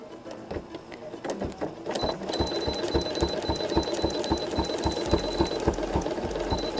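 Domestic home sewing machine stitching at a line, a rapid mechanical clatter of needle strokes that starts slowly and then runs steadily, close up, with a faint whine throughout.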